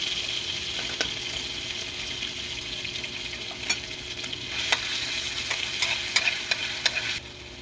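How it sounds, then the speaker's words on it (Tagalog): Corned beef frying in a pan gives a continuous close sizzle, with intermittent clicks and scrapes of a utensil stirring. The sizzle drops off near the end, and nobody speaks. "Luto tayo corned beef."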